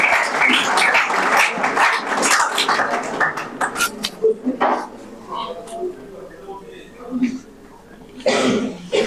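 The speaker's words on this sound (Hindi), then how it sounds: "जोरदार तालियों से भाई" An audience at a National Youth Day prize ceremony in Hansi breaks into brisk, loud applause for a fourth-prize student, with dense clapping that fades into scattered claps and murmuring voices before a short final burst.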